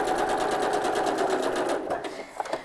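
A sewing machine stitches through plastic in a steady, fast mechanical rattle of needle strokes, close and loud, slowing and breaking up near the end.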